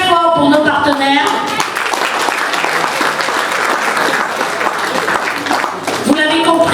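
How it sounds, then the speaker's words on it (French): Loud, sustained applause fills the hall for invited guests honouring partners at a ceremony installing a new association board in Paris. A voice is heard speaking briefly before the clapping and again as it fades. "Je vous prie d'applaudir très fort pour nos partenaires."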